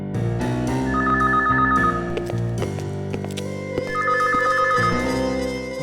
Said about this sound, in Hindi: मेरी वाइफ का फोन है।